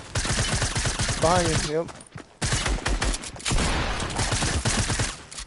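Rapid bursts of gunfire in an online shooter match, dense shotgun-like blasts crowding the soundtrack, with voices calling out over the shooting.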